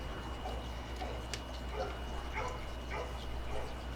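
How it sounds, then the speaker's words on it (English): Several neighborhood dogs bark and yip in scattered bursts at a distance, heard against a steady low rumble of background noise while someone stands by a parked KTM 250XCW dirt bike. "Neighborhood dogs going crazy."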